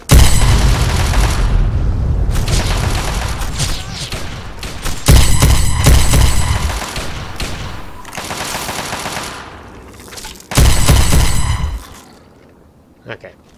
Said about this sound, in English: Stop shooting my friends.